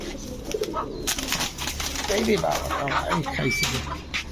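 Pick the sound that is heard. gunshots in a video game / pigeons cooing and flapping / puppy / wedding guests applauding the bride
pigeons cooing and flapping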